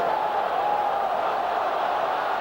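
A rugby league test crowd between Australia and Great Britain, heard as a steady, distant stadium roar of massed voices that holds at an even level throughout.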